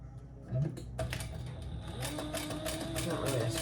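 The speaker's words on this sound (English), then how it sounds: "make your turn here and stitch around your square." Sewing machine stitching leather for a waist pack, a steady mechanical whir with rapid needle clatter running throughout, with a voice speaking softly beneath it.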